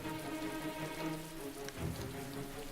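Steady rain falling across a park in the video game Heavy Rain, a dense continuous patter and hiss with no voices, holding even throughout with a slight low rumble near the end.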